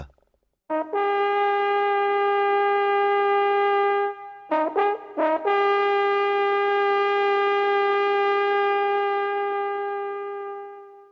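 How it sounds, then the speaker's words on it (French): A horn sounds in long sustained blasts, a steady loud tone broken by a few short stuttering toots, then holding again before fading, with no talking. "elle entend le bruit d'une trompe"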